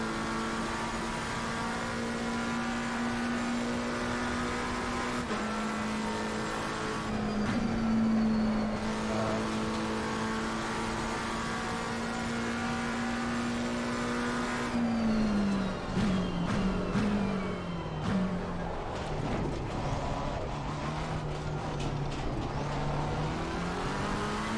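Race car engine in Gran Turismo 7 holding a steady loud drone through a lap, pitch shifting with gear changes and revs, with a dip and climb mid-way as the car brakes and accelerates again.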